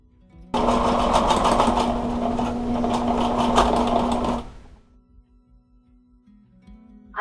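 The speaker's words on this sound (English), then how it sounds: "I have come to the conclusion that I need a new sewing machine." Singer HD 110 sewing machine stitching a seam, a loud, close, steady mechanical whir with rapid needle chatter that runs for about four seconds, then stops abruptly, leaving a faint hum and light clicks.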